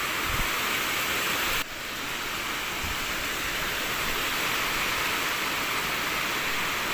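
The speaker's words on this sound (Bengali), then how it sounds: "তুমুল বৃষ্টি শুরু হয়ে গিয়েছে।" Heavy storm rain pours down in the Maldives, a dense, steady roar that shifts slightly after a brief break early on and then holds constant.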